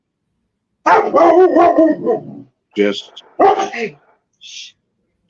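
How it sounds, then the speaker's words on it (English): A dog barks in a few loud bursts close by, with a short, faint high yip near the end and a voice speaking briefly. "You just better put that dog on a leash now."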